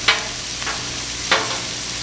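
Onions cooking on a Blackstone griddle for Philly cheesesteak give a soft continuous sizzle, broken by two sharp scraping or spatula clicks, close and fairly loud with no talking.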